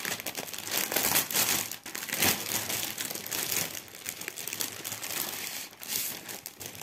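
Plastic packaging from a cross-stitch kit crinkles and rustles continuously as it is pulled open, close and fairly loud, with sharper crackles in irregular bursts.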